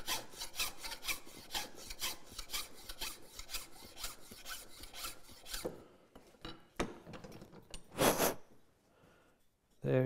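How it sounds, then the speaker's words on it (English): Rasping file strokes smooth the wooden body of a cam clamp, a rapid run of close, even strokes that give way to a few scattered scrapes and a brief louder rub near the end. "A couple of file strokes here."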